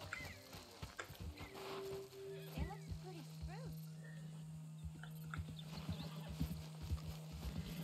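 A video-game horse whinnies and neighs while clip-clopping hooves sound steadily under a player's quiet talk, with a fairly faint, busy game soundscape.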